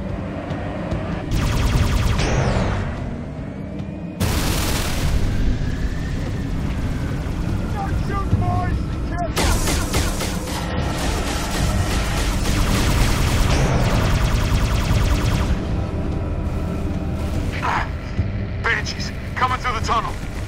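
Turret gunfire in Halo ODST comes as loud, dense bursts of rapid shots and booming blasts, some sustained for several seconds, mixed with explosions, while voices talk over the battle.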